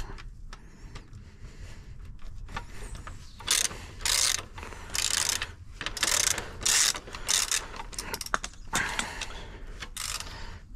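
17 mm socket ratchet loosening the wheel axle of a Sur-Ron electric dirt bike, bursts of rapid ratcheting clicks close up, repeated in short strokes separated by brief pauses.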